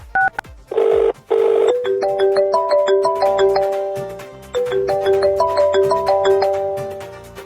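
Phone dialling tones in a stepped sequence, preceded by two loud buzzy bursts, with bright electronic beeps climbing and repeating close by and no talk.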